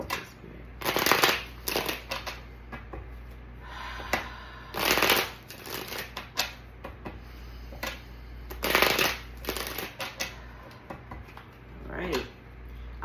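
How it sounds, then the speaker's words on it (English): Tarot cards shuffled by hand in repeated bursts, a riffling flutter that comes and goes over about thirteen seconds, close and moderately loud, with quieter gaps between shuffles. "I like to get a good shuffle"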